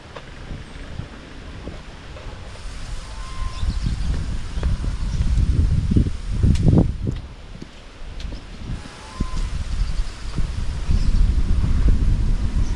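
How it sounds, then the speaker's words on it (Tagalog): Strong wind gusts across open farmland in low, surging rumbles that rise and fall over several seconds, with rustling and buffeting on the microphone and no talking. "malakas yung hangin"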